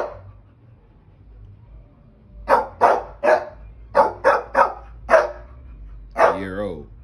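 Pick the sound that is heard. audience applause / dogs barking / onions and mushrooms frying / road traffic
dogs barking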